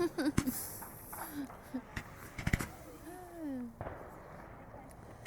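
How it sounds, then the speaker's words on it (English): New Year's fireworks go off in scattered sharp pops and bangs, some distant and some nearer, under a faint background hiss and occasional whistles, while someone talks over them. "Did you see those fireworks?"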